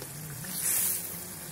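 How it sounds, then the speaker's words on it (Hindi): Tomato pulao masala with slit green chillies and tomato paste sizzles and fries in a pan as a soft, steady hiss, faint and close, with no talking. "तो हमारा मसाला अच्छी तरह से भून रहा है।"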